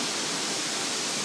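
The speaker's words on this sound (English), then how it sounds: "waterfalls." A waterfall at Tat on the Bolaven plateau roars in a steady, dense rush of falling water that fills the whole moment without a break.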